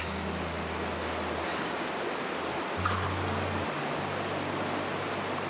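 A creek flowing beside a campsite in Idaho at night, a steady broadband rushing wash with a low hum shifting in the background.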